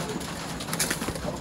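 Racing pigeons at a club training loading night, soft cooing and bird calls close by in a brief, busy stretch of flock sound.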